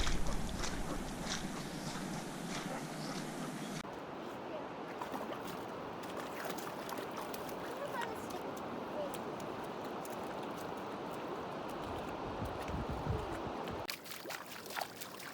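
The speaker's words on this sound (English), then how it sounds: "You can hear the water rushing." River water rushing through Desolation Canyon in Utah, a steady loud broadband roar close by, heard alone with a brief cut in the sound near the end.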